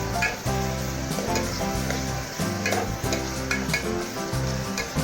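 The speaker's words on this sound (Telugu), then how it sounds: "జీడిపప్పు, ఉల్లిపాయలు వేగుతున్నాయి కదా" Cashews and onions frying in a pan for banana flower curry, a loud dense continuous sizzle and crackle with rhythmic scraping of a spoon stirring throughout.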